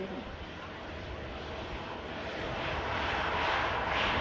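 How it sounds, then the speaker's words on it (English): Broad, steady jet engine roar from a Hainan Airbus A330 lining up for departure on the runway at Manchester Airport, heard from a distance and gradually swelling louder with a faint wind-like rush. "Hainan A330 lining up on the runway now for the departure."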